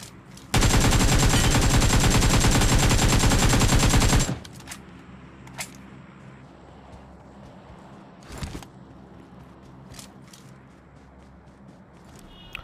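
Machine-gun fire in BGMI on a mobile phone rips out as one loud, sustained burst of rapid shots lasting a few seconds, followed by quiet game ambience with a few soft thuds and a lone later shot.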